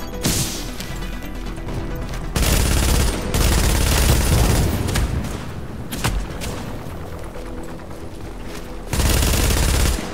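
Rapid bursts of automatic gunfire in a video game rattle close and loud, with heavy crashing impacts and booms layered through dense, continuous firing.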